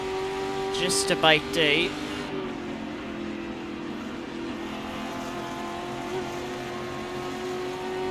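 Ford GT40 race car in Assetto Corsa, at the 1966 Spa race, engine holding a steady tonal drone with harmonics after a brief burst of shifting pitch, talk over the top near the start.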